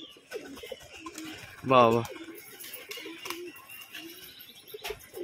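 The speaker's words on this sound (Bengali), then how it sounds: "দেখুন এইখানে সমস্ত বালি পাউডার পায়রা এখানে রয়েছে" Bali powder fancy pigeons cooing in a loft, one louder rolling coo near the middle over a steady murmur of softer cooing, with someone speaking briefly.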